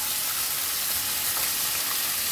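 Meat frying with oyster sauce in a pan while sautéing mung bean sprouts gives a steady, close sizzle and hiss with faint stirring, unbroken and without talking.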